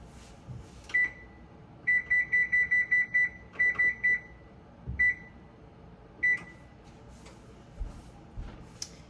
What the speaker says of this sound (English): I'm gonna preheat the oven now. So we're gonna preheat it to 325.